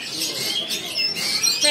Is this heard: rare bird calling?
yes